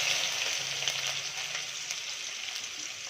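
Onion goes into hot oil with cumin in a pan for poha. A steady, dense sizzle crackles at moderate volume throughout, with no voices over it.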